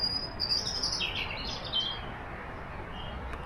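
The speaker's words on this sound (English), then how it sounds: "A lot of bird chatter going on though." Birds chirp and chatter outdoors near a bushcraft camp, with bright high calls clustered early and then thinning out over a steady background hiss, no one speaking.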